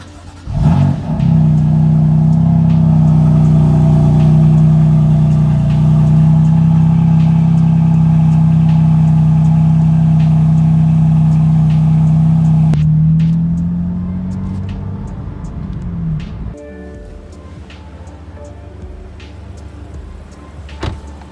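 A BMW F80 M3 starts from cold and settles into a loud, steady, high-revving cold idle for about twelve seconds, then the revs drop to a lower, quieter idle with a few faint clicks.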